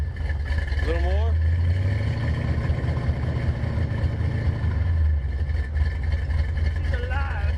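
A 1984 Ford GT350 Foxbody Mustang with a swapped limited-slip rear end pulls away in second gear, its engine a steady low rumble that swells midway and then eases off, with someone talking briefly at the start and end.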